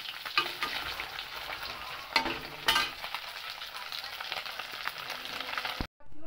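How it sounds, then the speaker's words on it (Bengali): Taki fish fries in hot oil in a home kitchen pan, giving a steady close sizzle with occasional louder crackles and spatters, then a brief cut to near silence at the end. "অর্ধেকটা ভাজছি আর অর্ধেকটা ভাজবো এখন।"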